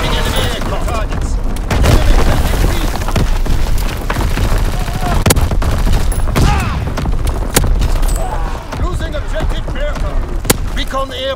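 Booming artillery blasts and scattered gunfire fill a Call of Duty WWII match on the Shipment map, with sharp impacts cutting through a dense, continuous battle din while a voice talks throughout.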